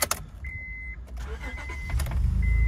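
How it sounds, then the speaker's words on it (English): A Honda Odyssey EX minivan with about 103k miles starts up, a brief warning chime sounding before the engine cranks and catches into a rising, steady idle close by. "One start, car starts up"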